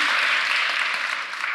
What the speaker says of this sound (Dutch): Een applaus voor Joram.